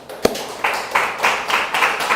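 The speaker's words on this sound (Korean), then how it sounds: "하나님께 영광의 박수를" A church congregation claps together in a steady rhythmic beat after one sharp opening clap, the applause close and moderately loud with no talking over it.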